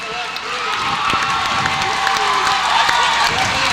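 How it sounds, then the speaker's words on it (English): Loud, steady crowd noise fills a gym at a 2005 high school girls' basketball playoff game between Freeport and GNG, a continuous roar of cheering and shouting with scattered voices throughout. "And the crowd goes wild."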